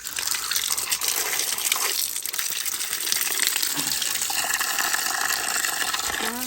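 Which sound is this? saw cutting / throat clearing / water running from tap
water running from tap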